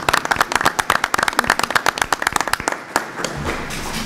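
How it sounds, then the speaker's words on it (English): Audience applause for children at a board of education meeting: a dense burst of many hands clapping, loud and close, which thins out and fades into room noise toward the end. "Let's have a round of applause for the kids."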